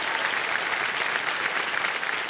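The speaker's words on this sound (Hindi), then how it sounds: "और एक बार तालियां बज जाए उनके लिए।" Studio audience applause on the KBC game-show set, a steady, dense wash of many hands clapping at full volume without a break, no talk over it.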